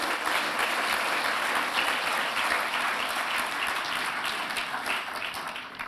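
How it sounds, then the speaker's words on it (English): Steady, dense applause fills an awards ceremony hall for the Mindful Money Awards 2022, a continuous wash of many hands clapping at an even loudness throughout. "A round of applause for all of them."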